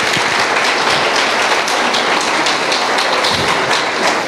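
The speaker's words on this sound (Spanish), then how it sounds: "¿Lo puedes aplaudir esta mañana?" Church congregation clapping during a Sunday morning sermon, a loud, continuous, rain-like roar of many hands that stays dense and even throughout, with no voices.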